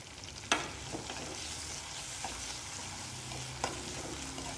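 Small onions (shallots) frying in a pan give a steady, soft sizzle with occasional stirring clicks and scrapes, two sharper knocks standing out; no one speaks.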